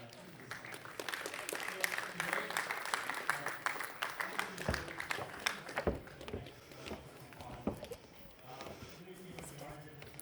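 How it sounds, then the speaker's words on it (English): An audience applauding as an expert panel on e-commerce shipping is welcomed on stage, a sustained clatter of claps with voices speaking through it. "I would like to have a small applause for our first panel"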